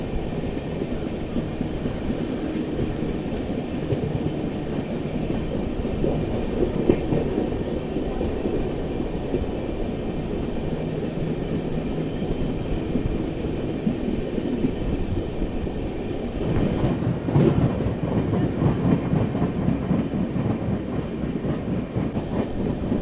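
Barauni Clone Special Humsafar Express runs fast along the track, with a continuous loud rushing rumble and rattle that swells briefly near the end.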